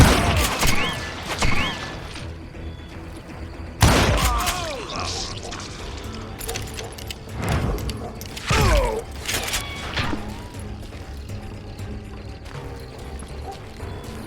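Gunfire in the Call of Juarez: Gunslinger video game on Nintendo Switch comes as several loud, sharp shots spaced across the stretch, with clattering and horse-like sounds in the mix.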